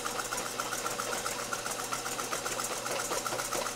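An electric mixer whisks a small amount of cream for baking, with a continuous close motor whir and fine rattling buzz that holds steady throughout.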